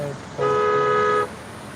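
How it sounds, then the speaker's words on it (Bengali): A vehicle horn on a street in front of a police station and municipal office, one steady toot of under a second, loud and near, with faint street noise around it. "হর্ন বাজাতে"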